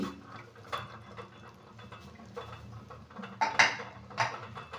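A pressure cooker lid being lifted off after the steam has been released while cooking raw mango dal: light metallic clinks and scrapes, a few sharper clatters near the end, close and moderately quiet.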